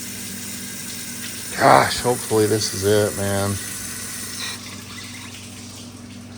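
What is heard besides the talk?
water hose flushing through a car engine cooling system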